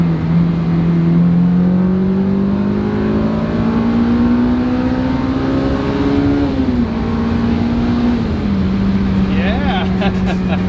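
A Honda S2000 sports car drives after a valve adjustment, its engine droning steadily in-cabin as the pitch climbs slowly, dips and settles again, with road noise beneath.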